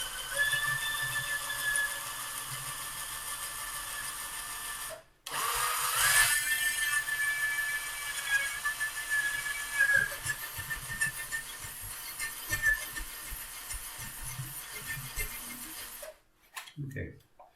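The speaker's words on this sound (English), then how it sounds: "we just move the drill up and down to make sure we clean out all the material inside" A power drill bore cutting into wood while making a phone holder, a steady whining drone with shifting pitch as the bit is worked up and down, interrupted briefly by short pauses, with faint talk underneath.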